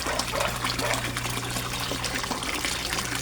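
A koi pond aerator pump churns water about three feet deep, making a constant close bubbling, gushing wash with no break.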